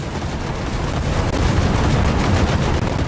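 Sustained, dense 20mm cannon fire from an aircraft in the video game War Thunder, a loud continuous roar of rapid rounds blending into a steady barrage with no gaps and no talk.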